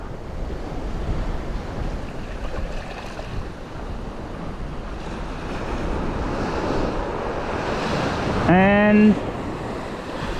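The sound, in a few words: wind blowing at the beach with surf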